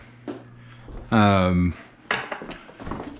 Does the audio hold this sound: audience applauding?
no